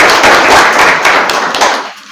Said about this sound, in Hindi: सर का तालियों से स्वागत करेंगे।